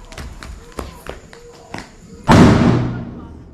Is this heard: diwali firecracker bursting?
yes